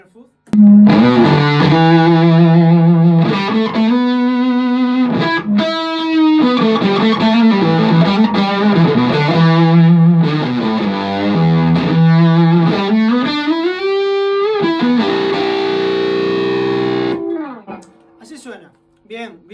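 An electric guitar runs through a germanium fuzz pedal modeled on the Fuzz Face, playing loud, thick, saturated distorted phrases for several seconds before ringing out and fading.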